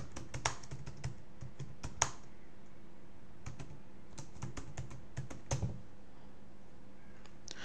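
Keys clatter on a computer keyboard in irregular bursts of clicks, some sharper strokes standing out, close and fairly quiet with no talking.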